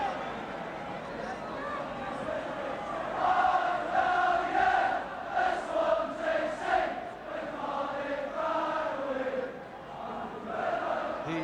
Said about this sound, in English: The Swansea crowd really making their presence felt here